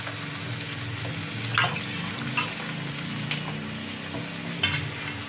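Dried fish stirred and fried in spicy masala in a pan, a low steady sizzle with four or five distinct scraping stirs of a spatula, close up and without voices.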